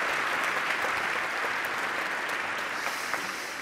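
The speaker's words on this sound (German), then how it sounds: "Ja, Applaus für Uschi einmal kurz." An audience at a Frankfurt science slam claps briefly, a thick, even wash of applause at steady volume throughout, with no voices standing out.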